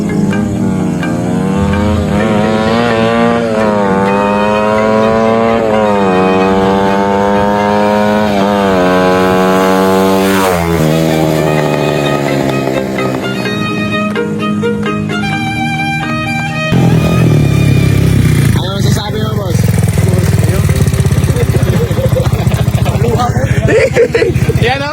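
Euro 150 motorcycle revving at high RPM, its buzzing engine note rising again and again in pitch, then roaring past in a loud flyby, with voices heard around it.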